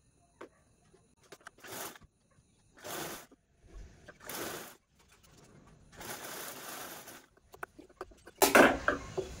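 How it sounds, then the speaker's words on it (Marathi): A sewing machine stitches double-folded fabric strips into piping for a floor mat made from leftover cloth. It runs in several short bursts of whirring with pauses between them, close and moderately loud. "अशी डबल फोल्ड करून स्टिच करून घ्यायची आहे।"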